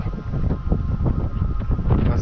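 Wind blows steadily during a large forest fire near Sozopol, a constant low rumbling buffet against the microphone with rustling, heard close and loud throughout.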